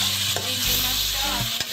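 Prawns and onion sizzle and fry steadily in a pan while being stirred, a continuous close hiss with a couple of brief utensil scrapes.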